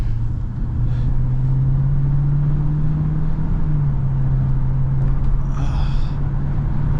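A Chrysler 300 with a swapped 392 engine drives along, a steady low engine drone holding a constant pitch with a slight dip midway, heard from inside the car, loud and continuous under road noise.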